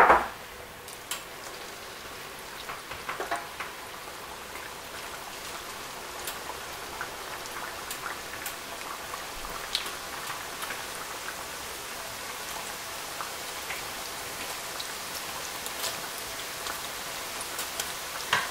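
Steady crackling and sizzling of chin chin dough frying in hot oil, dense popping ticks throughout, fairly soft and close, with no talking.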